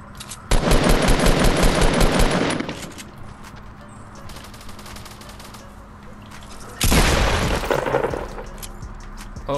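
Loud, rapid bursts of tac shotgun and pump shotgun fire in the video game Fortnite, with a dense volley of shots up front, a quieter gap, then a second heavy burst of blasts near the end.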